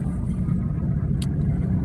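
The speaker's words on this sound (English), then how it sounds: "I'm driving a 2009 Prius." Cabin rumble of a 2009 Toyota Prius driving along a curvy parkway, a steady low drone with road noise and a brief faint click near the middle.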